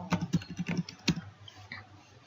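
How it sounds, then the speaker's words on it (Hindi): An Aadhaar number being typed on a computer keyboard: a quick, close run of light keystroke clicks that slows and fades to a few scattered taps. "मैं अपने आधार नंबर टाइप कर देता हूँ"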